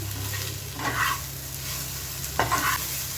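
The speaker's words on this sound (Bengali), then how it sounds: "আবার একটু ভালো করে মিক্স করে নিচ্ছি।" Fish curry with fried potatoes being stirred in a pan over a high flame, a spoon scraping in two distinct strokes over a steady low sizzle, close and alone with no talk.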